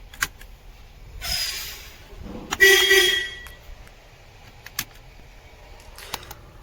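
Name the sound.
Mercedes-Benz Actros truck's second horn sounding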